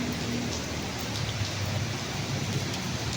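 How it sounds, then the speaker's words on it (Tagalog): Heavy typhoon rain pours down in Angeles City, Pampanga, in a dense, continuous hiss, steady and fairly close, with no voices. "sobrang lakas ng ulan"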